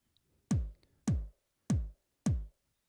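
Four heavy trigger kick drum hits from a stomp box pedal land in a steady, evenly spaced rhythm, each with a sharp click on top and a booming low tail.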